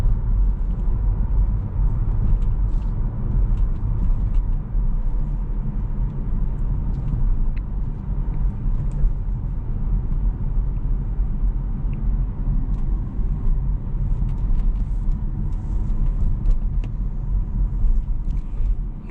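Kia EV6 GT Line electric car driving over a rough, poor road, a steady low rumble of tyres and road noise inside the cabin with faint knocks and rattles, continuous and with no talking.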